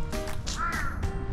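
A big crow gives a single drawn-out caw on an autumn walk along a leafy university path, clear and fairly near over soft outdoor background noise.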